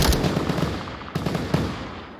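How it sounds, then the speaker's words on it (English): Gunfire erupts in a VR shooter match of Onward, with two quick bursts of loud, close rapid shots in succession. "they're immediately stricken down by multiple gunshots."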